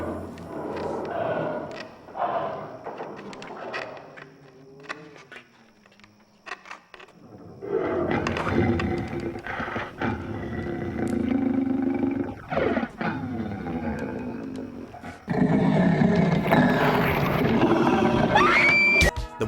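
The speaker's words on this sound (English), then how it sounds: "the growling starts slower, and we finally see it for the first time" A werewolf in a Goosebumps episode growls low and rough, starting slowly and building into loud, sustained snarls and roars layered over dramatic soundtrack music and effects.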